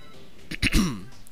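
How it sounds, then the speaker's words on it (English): A single short, rough human throat clearing, close and brief, in an otherwise quiet moment during Super Mario Galaxy 2 gameplay. "Sorry about the cough. Had to clear my throat."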